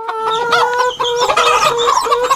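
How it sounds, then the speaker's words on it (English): Hens clucking loudly and close by, a busy overlapping chatter of short, throaty calls. "And do you see the little hens?"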